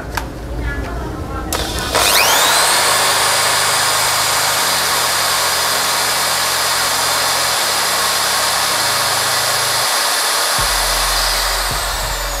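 A Dong Cheng budget electric drill spins up after a brief moment of quiet and runs steadily at over 3000 RPM, a loud, continuous close whine with a low humming undertone that shifts slightly in pitch.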